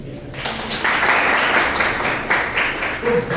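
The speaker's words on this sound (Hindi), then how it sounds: "तालियां हो जाएगी।" Audience applause at a Hindi-language talk on building personal value, a steady wash of many hands clapping that swells after the first second and holds fairly loud to the end, with a faint voice and a brief tone near the close.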